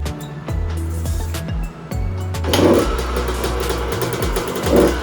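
A rebuilt 2001 Honda CR125 two-stroke motorcycle engine is kicked over a few times, then fires and runs, revving up in loud bursts close by.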